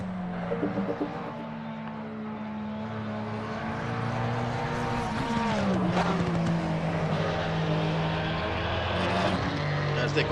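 GT3 race cars, a McLaren and a Porsche, race at COTA into the S's, their engines droning loud and steady with rising and falling pitch as they shift and brake, under continuous race commentary.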